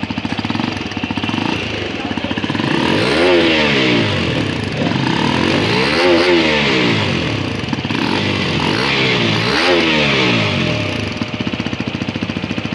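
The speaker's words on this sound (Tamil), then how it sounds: "இன்ஜின் பற்றி பேசிட்டு இருக்கும்போது அதோட சைலன்சர் நோட் கேளுங்க." A Hero Xpulse 210 motorcycle exhaust roars loudly and close, revved repeatedly in rising and falling sweeps, three or four distinct throttle blips over a steady idle chatter.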